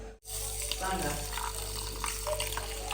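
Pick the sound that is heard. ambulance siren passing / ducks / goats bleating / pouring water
pouring water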